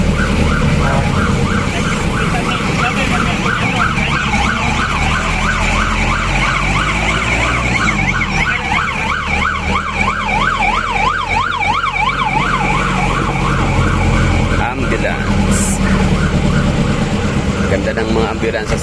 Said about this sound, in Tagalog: Ganda ng mga ambulansya sa Davao.